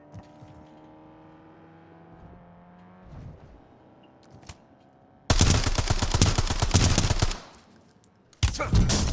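Sustained loud burst of automatic gunfire in Call of Duty Warzone solos erupts midway after a quieter stretch, runs about two seconds, then another burst starts near the end; no talk.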